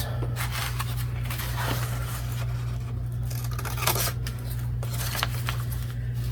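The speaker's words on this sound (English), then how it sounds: "I'm going to cut that." Scissors snipping paper for a junk journal craft project: a series of crisp, irregular cuts close to the listener, over a low steady hum.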